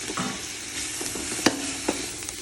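Coriander and mint leaves sauté in a pot for mutton biryani, giving a continuous close sizzle with a few sharp pops and scraping stirs, and no voices.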